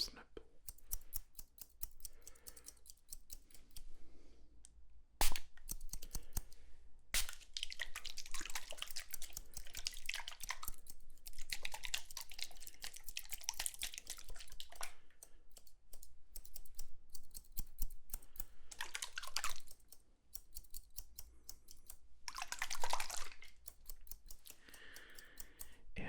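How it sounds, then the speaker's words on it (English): A spray bottle spritzes and scissors snip at hair in a close, intimate haircut setting, crisp repeated snips and bursts of spray, with soft whispered talking weaving through. "Spritz, spritz, spritz. And snip, snip, snip."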